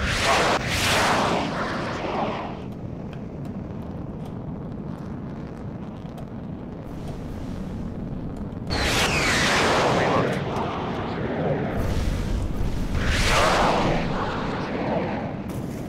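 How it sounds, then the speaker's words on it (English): Jet-fighter missile launches and explosions in the video game Sky Gamblers: Afterburner: loud rushing whooshes with booming blasts in repeated bursts over a steady engine roar, with someone talking at times. "Missile missed."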